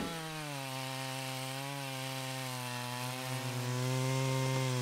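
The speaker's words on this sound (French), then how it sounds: "Le bois restant du côté du forestier bûcheron est scié en premier." A chainsaw cuts through the standing trunk of a tree being felled, giving a loud, steady, close buzzing drone whose pitch wavers as it bites into the wood. No voices are heard.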